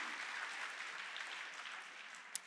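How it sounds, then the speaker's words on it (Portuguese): Faint, distant applause from a church congregation, a steady wash of clapping throughout with one sharper clap near the end. "uma salva de palmas para Jesus"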